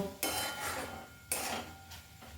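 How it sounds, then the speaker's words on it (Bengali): A lid comes off a pot of cooking rice and a utensil stirs it, making two sharp metallic clanks about a second apart, each with a short scraping ring after it, close and clear. "এবার আমি এই ঢাকনাটা খুলে দিচ্ছি। খুলে এবার দেখব, চালটা একবার নাড়াচাড়া করে"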